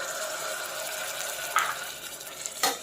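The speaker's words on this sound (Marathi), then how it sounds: "थोडा वेळ भाजूया, 1 मिनिट" A beetroot-tomato puree roasts with chopped onion in a pan, giving a low continuous sizzle with two brief louder bursts of spitting and stirring, close up and without talk.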